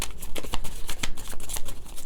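A deck of cards shuffled close up, a rapid run of crisp riffles and slaps with a steady, busy rhythm throughout, loud and alone without talk.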